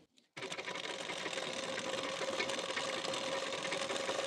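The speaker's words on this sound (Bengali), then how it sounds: "পট্টির কানা বরাবর করে একটি চাপ সেলাই দিয়ে নিতে হবে" A sewing machine runs steadily, laying a pressed stitch along the edge of a neck strip for a boat-neck blouse. A brief quiet pause comes first, then close, continuous whirring with no talk.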